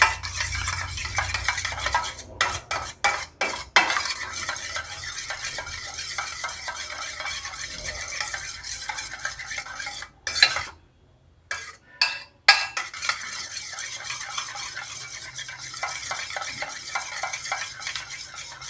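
Eggs are whisked in a bowl in quick, rhythmic clicking strokes against the sides, continuous apart from a brief pause midway before the beating resumes.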